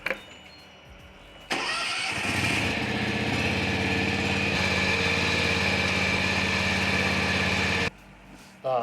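A John Deere X590 lawn tractor engine cranks and catches, then runs at a steady loud idle for several seconds before cutting off abruptly, with quiet ambient noise before and after.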